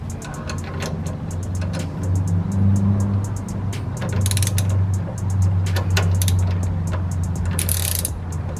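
Mechanical clicking and ratcheting from a hand tool tightening front-end steering parts on a 4th-gen Cummins truck, steady over a low hum, close and moderately loud with no talking.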